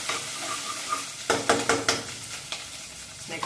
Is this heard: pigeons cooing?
no